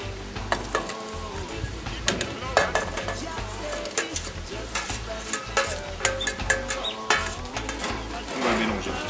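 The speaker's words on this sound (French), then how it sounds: "On va mélanger tout ça." A utensil stirs tabbouleh salad with cashew nuts in a bowl, making repeated scraping strokes with light clinks in a quick, uneven rhythm.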